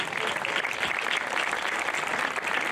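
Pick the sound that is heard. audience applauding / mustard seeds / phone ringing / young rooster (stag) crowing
audience applauding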